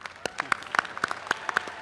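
Scattered applause from an audience at the UMass Amherst 2022 undergraduate commencement ceremony in a stadium: irregular individual claps, fairly distant, with faint crowd murmur behind.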